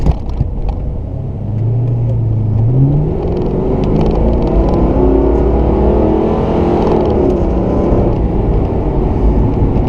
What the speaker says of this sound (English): let's see how this highway acceleration is